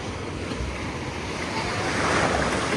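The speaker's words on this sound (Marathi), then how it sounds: "बघा लाटा, बघा फक्त ही लाटा आले डायरेक्ट माणसालाच फेकतात ते." Large, dangerous ocean waves surge onto a Konkan beach with a loud, continuous roar and wash, swelling toward the end, while wind buffets the microphone.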